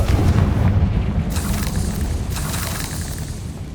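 The Confringo blasting curse goes off in the video game Hogwarts Legacy as a heavy booming explosion, loud at the start and then rolling down into a long rumbling tail with crackling debris.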